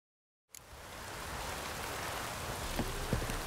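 Steady rain in The Witcher 3 video game, a broad hiss of falling drops rising from silence after half a second and continuing evenly, with a few faint tonal blips near the end.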